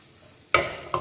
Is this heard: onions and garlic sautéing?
yes